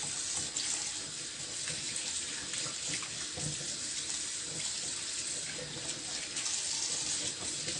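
Tap water runs steadily into a kitchen sink while raw meat is rinsed under it, giving a continuous even splashing hiss with no voices.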